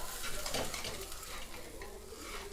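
Uttapam cooks in a hot pan with a steady sizzle, and a brief scrape near the start sounds like a spatula turning it over. The sound is close and continuous, with no talking.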